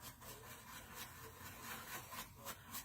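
Steady, close rubbing scrape of a brush working gesso into a masonite board in a circular motion, continuous and rhythmic with no voices over it.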